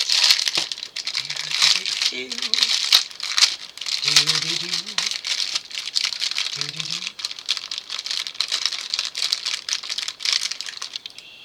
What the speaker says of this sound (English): Make me have to open it, which means I have to bite the plastic.